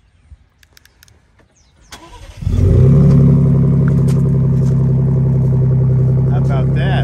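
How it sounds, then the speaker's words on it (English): A Ford Bronco with an AWE exhaust cranks over after a few faint clicks, then catches and settles into a loud, steady deep idle close by. "Let's listen to the exhaust startup on my new AWE exhaust."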